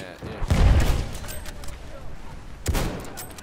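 Gunfire in Battlefield 1 during a full Operation match, with two loud bursts of shots, one near the start and another toward the end, over a quieter stretch of battlefield noise.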